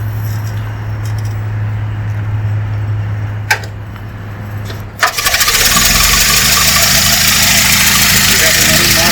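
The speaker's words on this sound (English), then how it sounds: "At that point, you walk around front, pull the crank," A Ford Model T engine is hand-cranked: a steady low hum, a sharp click, then a loud catch as it starts at once and settles into a close, even idle.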